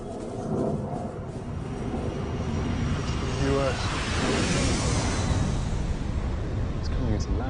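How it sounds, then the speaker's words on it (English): Russian Blackjack stealth bomber coming in to land, a steady loud roaring engine drone that swells slightly and holds for several seconds, with faint voices beneath it. "it's not American, it's Russian. It's a blackjack stealth bomber."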